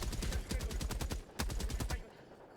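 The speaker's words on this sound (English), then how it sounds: "That Gatling is wasting all its ammo just shooting at that ship." Rapid automatic gunfire from a Gatling sentry in the video game Helldivers 2, a fast loud burst of shots that pauses briefly and then resumes before cutting off, with no talk over it.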